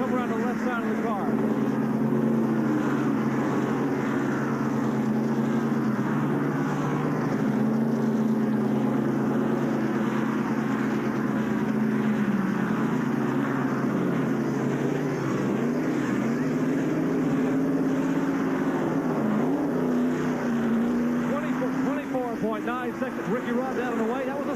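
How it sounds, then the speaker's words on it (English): A Quaker State stock car during a Winston Cup pit stop with a four-tire change at the 1989 Goodwrench 500. A loud, steady engine drone holds for the whole stretch, with a busy wash of noise layered on top. "And the sound of a Winston Cup pit stop."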